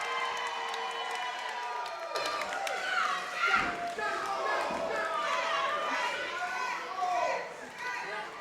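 A wrestling crowd at a WAW show roars and cheers steadily throughout as a former light heavyweight champion is introduced, loud and dense with chatter and shouts mixed in.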